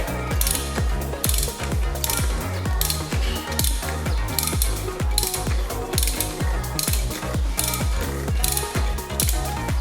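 Wrench ratcheting steadily on a new fuel filter cap in a BMW engine compartment, a rapid run of close, loud mechanical clicks that repeats for about ten seconds with no talk.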